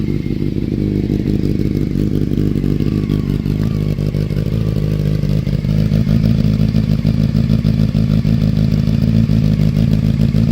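A Honda CBR 600 sport bike engine runs up close, loud and continuous, idling with a rough rumbling pulse and lifting slightly in pitch midway through.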